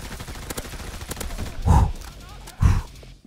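Grenade blasts in Call of Duty WW2 multiplayer, two heavy low booms about a second apart over scattered background gunfire, with a voice talking.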